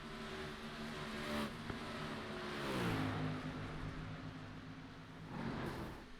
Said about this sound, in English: as I heard a car